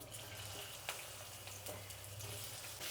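Onions sizzle in oil in a pan on the stove, a faint steady hiss and crackle that continues evenly with no voices.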